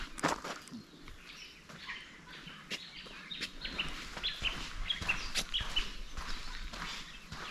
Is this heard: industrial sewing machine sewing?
no